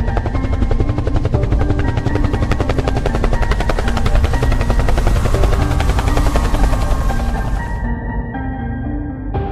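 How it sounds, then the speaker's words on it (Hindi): A cartoon helicopter slowly descends to land, its rotor chopping loud and continuous for several seconds before cutting off abruptly near the end, leaving a brief quieter tail. "वो हेलीकॉप्टर को धीरे धीरे नीचे उतारने लग जाता है"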